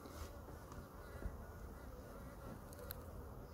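Dense, steady buzzing of many honeybees at an eight-frame hive, a continuous droning hum close by with no talking.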